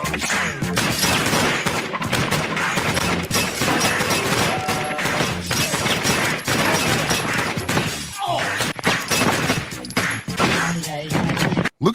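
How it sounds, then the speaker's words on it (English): Dense gunfire from a 90s street movie action scene, continuous rapid shots and crashing impacts filling the whole stretch loudly, with brief gaps and faint voices mixed in. "Look at how many shots were fired."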